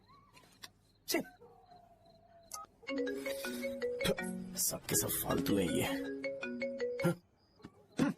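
A phone rings repeatedly and goes unanswered in a scene from a Hindi-dubbed action film, its tonal ring pulsing steadily across most of the clip while someone speaks over it.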